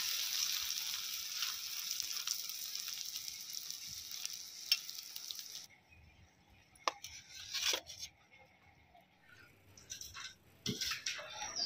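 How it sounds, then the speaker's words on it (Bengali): Hot eggs fry in a pan with a steady, bright hiss for about six seconds. The sizzle then cuts off, leaving scattered clicks, scrapes and a few drips nearby. "মা চিকেন খায় না বলে গরম গরম ডিম ভেজে দিচ্ছে।"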